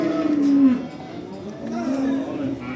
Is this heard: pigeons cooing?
no